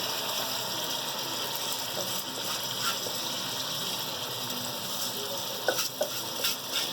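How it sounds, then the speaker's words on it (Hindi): Soaked, washed rice goes into a pot of simmering broth for beef yakhni pulao, giving a steady, close bubbling sizzle throughout with a few brief clinks near the end. "अब ये मैं इसमें चावल डाल दूँगी।"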